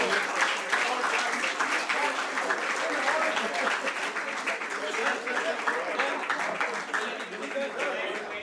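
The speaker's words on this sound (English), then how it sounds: "the claps must go on" Audience applause at a stock exchange listing ceremony for a health insurance company, steady dense clapping that holds for the whole stretch, loud and sustained, with a hint of voices mixed into the crowd.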